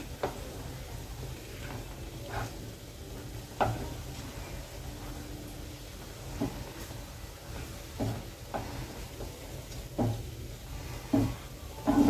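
Fish balls frying in a covered pan, a soft steady sizzle close by with a few sharp clicks and knocks as the lid is lifted and the balls are turned.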